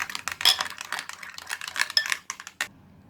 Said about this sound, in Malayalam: നമുക്കിത് നന്നായിട്ടൊന്ന് ഇളക്കിയെടുക്കാം ഫ്രഷ് ക്രീം.